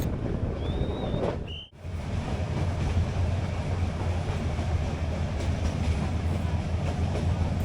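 A meter gauge train from Junagadh to Sasan Gir runs through the Gir forest, a steady close rumble of wheels and carriages with low rhythmic rattling, continuous and loud throughout.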